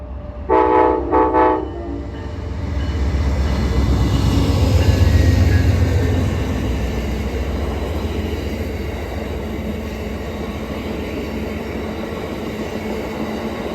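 An Amtrak train in a special anniversary livery sounds a loud, two-part horn blast, then rumbles steadily past at close range, its wheels and cars droning on without any voices.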